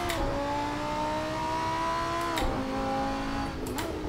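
GT2-style race car engine in a racing game, a steady high-pitched drone holding revs with slight pitch dips as gears shift, loud and continuous with no voices.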